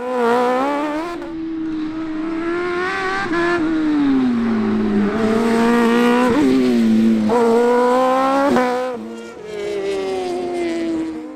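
Rallycross buggies and Mazda MX5 race cars lapping the Shackleton circuit, engines droning loudly and continuously with rising and falling revs, gear changes and a close pass, no voices.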